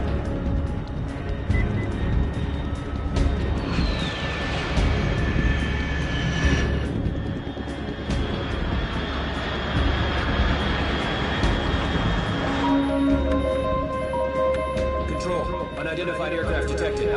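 A fast aircraft sweeps overhead in the video game Metal Gear Solid 3, a steady jet-like roar with a falling whistle passing by, heard under game dialogue and ambient sound.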